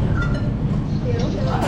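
Rumble of the Skytrain at Singapore airport carrying passengers between terminals, a steady low rolling drone through the ride with a voice talking over it.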